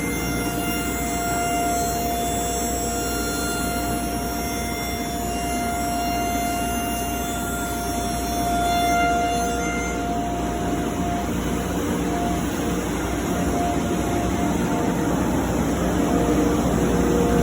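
A Centatec P-110 CNC machine cuts a walnut door jamb leg, sped up, with a steady mechanical drone and high whining tones running unbroken throughout.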